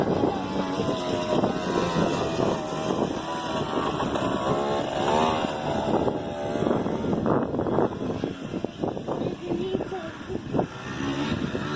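A 1986 Suzuki XLT50 ATV engine runs nearby with a buzzy small-engine drone that rises and falls a few times. A voice is heard briefly under the engine noise.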